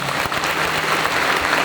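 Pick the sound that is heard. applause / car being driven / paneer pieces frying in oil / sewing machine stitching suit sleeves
applause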